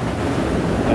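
White water rushes and wind roars behind a sailboat moving fast at 8 to 9 knots in the Aegean, a loud, continuous close wash with heavy wind buffeting the microphone.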